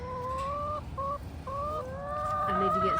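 Chickens kept on a sheep farm cluck and croon with drawn-out warbling tones, several birds close by, broken by short pauses and overlapping calls toward the end.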